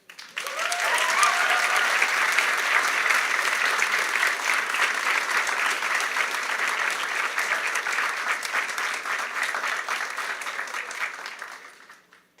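An audience at a school awards ceremony gives sustained applause for concert band award recipients, a full, even roar of clapping that swells quickly, holds for about eleven seconds, then fades out.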